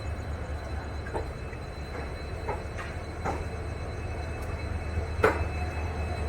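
A late-running passenger train from Kolkata to Guwahati pulls into Kamakhya Junction before dawn, with a steady low rolling rumble, scattered metallic clanks and one sharp knock near the end, heard from on board.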